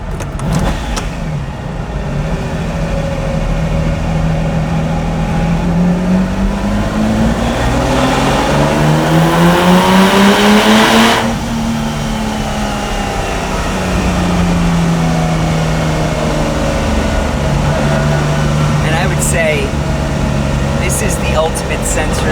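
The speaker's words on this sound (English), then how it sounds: "I love basically matching the revs between the shifts." A Lamborghini Miura SV engine revs hard while driving, rising to a loud peak around the middle then dropping with a shift and pulling again, its pitch sweeping up and down close by; someone talks over it.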